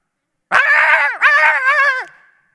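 A single dog gives two drawn-out whining yelps in quick succession, close and loud, tonal and wavering rather than sharp barks, with no other sounds around them.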